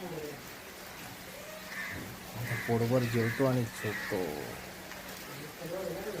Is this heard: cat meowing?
no